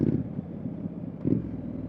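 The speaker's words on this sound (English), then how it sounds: "I'm out here with a stock exhaust which sounds like I'm barely making any noise" A Triumph Street Scrambler motorcycle with its stock exhaust gives a subdued, low engine rumble that pulses slightly as it rides along, mixed with buffeting wind noise.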